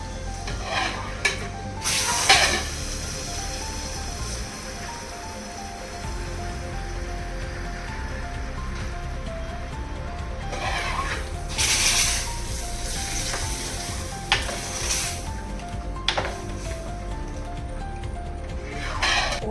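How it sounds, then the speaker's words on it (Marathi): A tempering of curry leaves and asafoetida for dahi kadhi sizzles in bursts, with several short loud hisses over clinks and stirring against the pan, nearby and without voices. "आणि ही आता गेली फोडणी"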